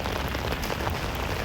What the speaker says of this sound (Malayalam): സാധാരണ 2-3 മിനിറ്റ് കണ്ടാളുള്ളൂ മഴ. ഇത് നിൽക്കണില്ല. അടിപൊളി തകർത്ത് പെയ്യാണ്.